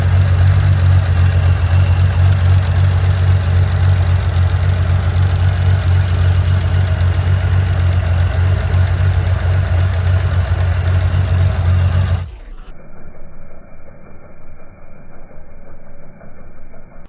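A Buick engine running with its valve cover removed, a loud steady low idle rumble with faint ticking, close by, that stops abruptly after about twelve seconds, leaving quiet background noise.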